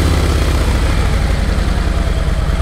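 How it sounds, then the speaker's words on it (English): A Harley-Davidson motorcycle with its stock header pipe and stock mufflers idles close by, giving a steady, loud, low and mellow exhaust rumble with no other sound. "this is gonna be a before with the stock Harley Davidson header and stock mufflers"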